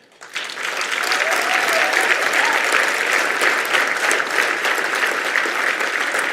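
A gala audience breaks into loud, dense applause for honorees Harvey and Bonnie Gaffin, the clapping swelling quickly and sustaining as a thick, even wash of many hands.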